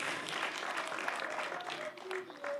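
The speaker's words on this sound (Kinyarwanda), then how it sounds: "twakomye amashyi rwose tubakomera amashyi" Wedding guests in Rwanda clapping for the bride and groom, a dense burst of crowd applause filling the whole moment.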